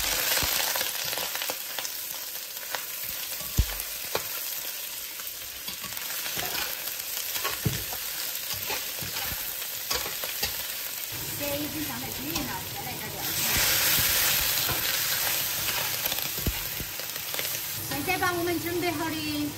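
Beef hits caramelized sugar in a wok and stir-fries with a loud, continuous sizzle, punctuated by scraping stirs and bursts of crackling frying, close up.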